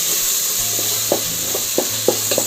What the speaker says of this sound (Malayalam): മല്ലിപ്പൊടി ഒരു ടേബിൾ സ്പൂൺ കുറച്ച് നേരം ഒന്ന് വഴറ്റിയെടുക്കാം